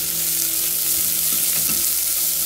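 Chopped onion frying with crushed ajwain in a pan, a steady close sizzle with a little stirring throughout, no talking.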